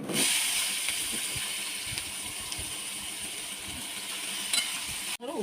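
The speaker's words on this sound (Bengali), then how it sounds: "এবার এই তেলেতে আমি উচ্ছে ভাজা করবো।" Bitter gourd frying in hot oil in a pan that has just been used to fry potatoes gives a steady, close hiss and sizzle, ending in a brief clatter.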